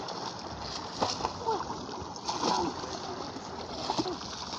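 A child learning to swim kicks and splashes in a pool, with several short, moderately close splashes every second or so and a voice faintly in the background.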